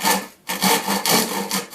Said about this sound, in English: I'm cutting carefully up to the line now